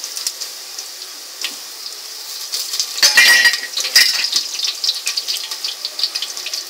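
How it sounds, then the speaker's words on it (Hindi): Whole garam masala spices dropped into a pan of golden fried onions while making mutton pulao, giving a few light clinks and sizzling crackles that build into a brief burst, then steady soft frying. "अब हम इसमें गरम मसाला अखा जो है वो डालेंगे।"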